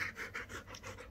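A dog panting close by at home, quick rhythmic breaths about five per second, soft and steady over a faint room hum.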